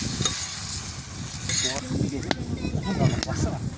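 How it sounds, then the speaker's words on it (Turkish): Meat sizzling steadily in a sac pan over an outdoor fire while being stirred, a continuous close fry with scraping stir noises and brief voices talking over it. "Ara ara sürekli karıştırıyoruz"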